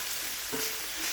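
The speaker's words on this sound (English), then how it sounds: "I'm just going to let this continue to fry up until the bacon has rendered all of its grease" Bacon fries in a pan with a steady, soft sizzle and a light stirring scrape partway through, faint and close with no talking.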